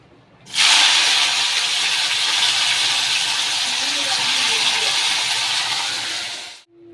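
Green beans (long beans) hit hot oil in a kadai with onions and sizzle loudly in a steady, bright hiss that starts abruptly, holds for several seconds, then cuts off.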